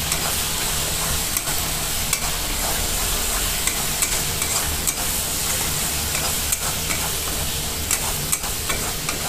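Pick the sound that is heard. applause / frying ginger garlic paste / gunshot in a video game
frying ginger garlic paste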